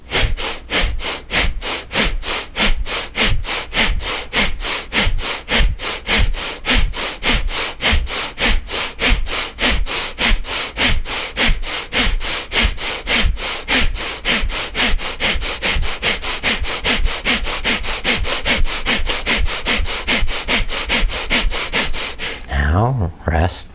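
Rapid rhythmic forceful breathing in a yoga breath exercise, quick sharp nasal exhalations pumped from the navel in a steady fast pulse, close and loud for over twenty seconds before easing off.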